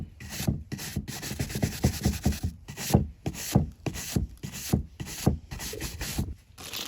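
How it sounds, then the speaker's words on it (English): Charred wooden candlestick scrubbed with a hard plastic bristle brush, a close rhythmic rasping of quick back-and-forth strokes, about two per second, with brief pauses between bursts. "the brush is a hard bristle plastic, right?"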